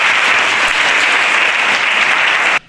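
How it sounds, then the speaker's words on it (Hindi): Loud, dense clapping from a crowd of female students at an International Women's Day program, continuous and close for a couple of seconds before cutting off abruptly. "सभी लोग अपने लिए पहले जोरदार तालियां बजाइए"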